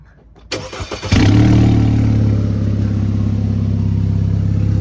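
An Audi B8 engine with no exhaust fitted cranks with a few rapid sputters, then catches and roars loudly, settling into a rough, unmuffled drone that stays steady.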